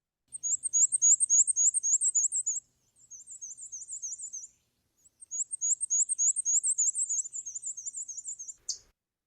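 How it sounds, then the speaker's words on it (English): Black-and-white warbler song: three runs of high, thin, squeaky two-note phrases repeated rapidly like a squeaky wheel, clear and fairly close, with brief pauses between runs and no other sounds. "the black and white warbler kind of sounds like a squeaky wheel"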